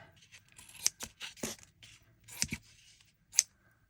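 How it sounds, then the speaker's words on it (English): Big scissors snip through junk journal paper in several separate, close crisp cuts with short pauses between them, heard alone in a quiet room. "So, where's my big scissors? Let's cut up here."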